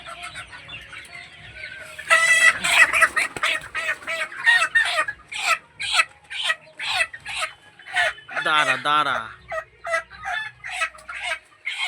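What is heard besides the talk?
chickens clucking on a farm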